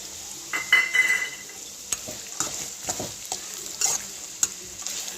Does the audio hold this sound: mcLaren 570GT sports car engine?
no